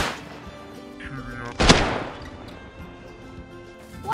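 Gunfire rings out in a multiplayer survival shooter game, one sharp loud shot amid a steady background of game sounds and voice chat.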